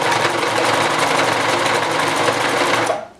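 A sewing machine runs loud and close, stitching a pillow seam in one continuous rapid whirr, then stops abruptly at the end.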